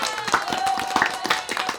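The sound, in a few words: hand clapping, round of applause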